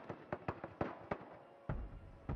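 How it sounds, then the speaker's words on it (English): Fireworks in the theme-park game Planet Coaster pop and crackle in a rapid irregular series of sharp bursts, fairly faint, followed by a longer rumbling boom. "Fireworks. Always going."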